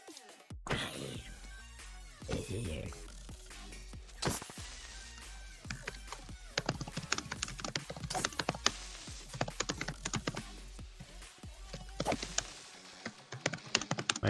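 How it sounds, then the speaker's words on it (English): Someone typing on a computer keyboard, heard through a voice chat mic during a live Minecraft modpack stream: irregular bursts of quick clicky keystrokes, close and fairly quiet, with short pauses between runs. "whoever's typing, can you mute your mic or put it on text-to-speech?"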